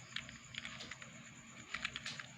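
Keys tapped on a computer keyboard in quick irregular bursts of clicks, close and fairly quiet, with a short pause in the middle and no talking.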